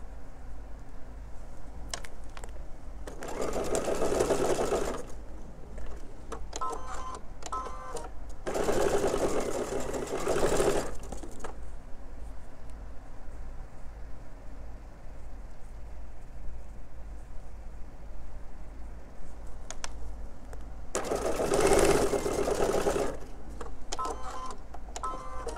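Close-up, a sewing machine chain-pieces fabric in three loud, steady bursts of rapid stitching separated by quiet pauses, with faint handling noises between runs and no speech.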